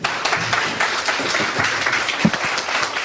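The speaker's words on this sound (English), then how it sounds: "Give the brother a round of applause." An audience applauds continuously, with dense clapping throughout and no one speaking.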